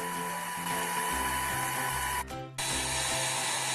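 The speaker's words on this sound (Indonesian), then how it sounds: "Mixer adonan margarin ini hingga mengembang, fluffy dan ringan, kurang lebih 25 menit dengan speed tinggi." An electric mixer beats margarine at high speed for a steamed marble sponge cake, giving a steady, close whirring motor whine with a tonal hum, which briefly cuts out before resuming.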